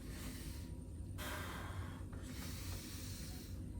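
Slow, breathy inhales and exhales during a relaxed stretching routine, soft and close with airy hissing swells and no speech.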